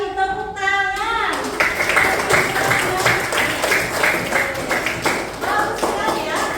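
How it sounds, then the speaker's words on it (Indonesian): Classroom applause at a university lesson, a short chime-like tone leading into a burst of rhythmic clapping from students, with voices mixed in. "Oke, bagus sekali, tepuk tangan."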